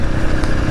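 A Honda CRF300 motorcycle cruising along a bush trail, its engine a steady close mid-pitched drone with slight throttle wobble and no talk.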